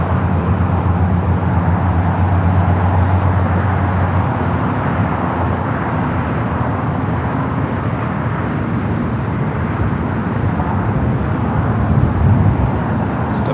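Qantas airliner taxiing at Los Angeles International Airport, turning onto a taxiway: a steady, broad engine rumble and roar holds throughout, with a low hum underneath and no pauses.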